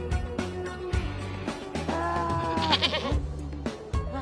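A goat in an Indonesian adult comedy film bleats loudly and close by, one long quavering cry in the middle set among shorter low grunting calls and rustling.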